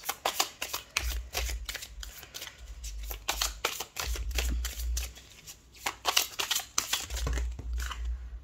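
Tarot cards shuffled by hand in rapid bursts of crisp riffling clicks and flutters, close and fairly loud, repeating in several runs with brief pauses between them.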